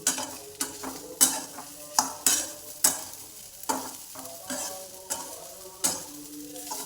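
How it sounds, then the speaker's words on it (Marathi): Stuffed bitter gourd masala curry stirred in a pan, with a spoon scraping and knocking at a steady rhythm about twice a second over a soft sizzle, close and alone. "परत दोन तीन मिनटं असं हलवायचं"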